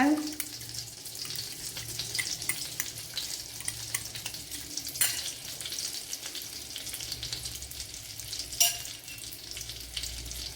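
Beaten quail eggs fry in a tablespoon of coconut oil, giving a steady, close sizzle with light crackles and a couple of louder pops, and no talking over it.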